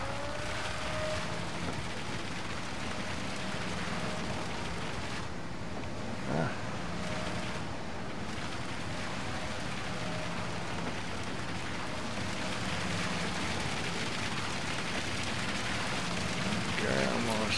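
Concrete pours in Construction Simulator 22, a steady rain-like wash of sloshing material over a constant machine rumble that runs unbroken at an even, fairly loud level.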